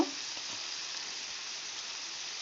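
Cut potato and onion frying in hot oil in a wok give a steady, faint, even sizzle with a small burst at the very start.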